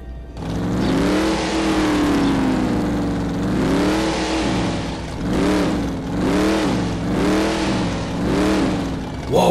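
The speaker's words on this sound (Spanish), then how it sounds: "vamos a encender la camioneta para que la escuchen. Tiene un sonido del motor impresionante." A Toyota Rush 4x4 engine cranks and catches, then revs in a long sweep followed by four shorter throttle blips in a steady rhythm; loud, close and heard alone.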